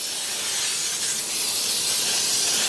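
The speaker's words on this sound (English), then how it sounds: "I'm going to spray it with baking spray with flour" A continuous close hiss of an aerosol can of baking spray with flour sprayed onto a baking pan, steady and bright for the whole short stretch.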